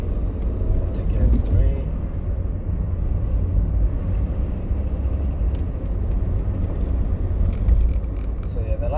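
Steady car engine rumble from inside a vehicle during a UK driving test, running continuously with a slight rise as it shifts into second gear, with talk over it.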